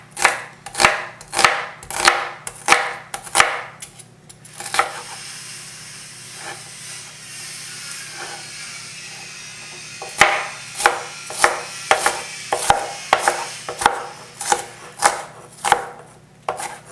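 A knife chopping food on a board, with crisp close strikes in quick bursts of several cuts, a pause in the middle, then another steady run of chops over a faint background hiss.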